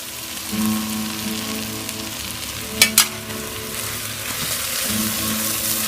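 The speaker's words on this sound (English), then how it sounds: "And stir it through." Food frying in a pan with asafoetida as it is stirred through, a steady close sizzle with a few sharp scraping clicks near the middle.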